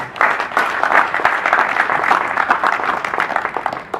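An audience claps in honour of a lady at a building inauguration, a steady, dense round of applause lasting several seconds that fades slightly toward the end.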